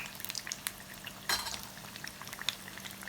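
Batata vada frying in a pan of hot oil, a soft steady sizzle and bubbling with scattered pops and a few clinks of a utensil, quiet and close.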